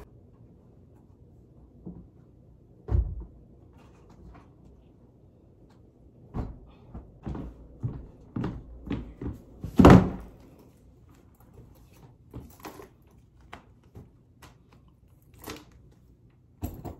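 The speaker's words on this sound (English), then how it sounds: "I literally just walked in the door, as you saw, and I brought a package in with me." A door at home opens and closes as someone walks in carrying a package: scattered knocks, clicks and rustles, one sharp louder thud midway, then a few lighter taps, nearby and without talk.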